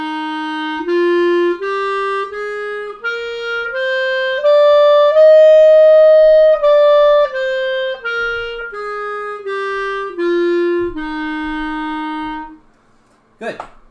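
Clarinet playing an ascending then descending scale, each sustained note stepping up to a peak and back down, solo and clear, followed by a brief rustle at the end.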